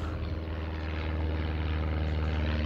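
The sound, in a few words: propeller airplane flying overhead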